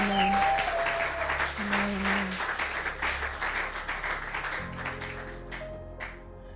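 Church congregation applauding and cheering in a large hall, a sustained wash of clapping with voices rising through it, loud at first and easing off toward the end.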